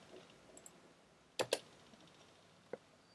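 Light clicking on a computer keyboard while writing HTML5 form code in Visual Studio Code: a few scattered soft taps, then a pair of sharper close clicks and one last tap in a quiet room.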